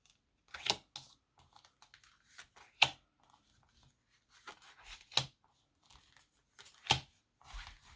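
Tarot cards are drawn in a quiet room: four or five sharp, close papery snaps and slaps stand out among scattered soft shuffling rustles, with no talking.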